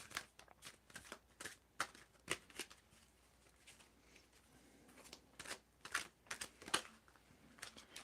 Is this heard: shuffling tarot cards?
yes